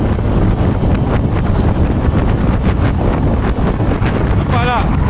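Strong wind buffets the microphone while riding a Royal Alloy GP 125 scooter at speed, a loud, continuous roaring rumble with gusty surges, and a brief faint chirp near the end.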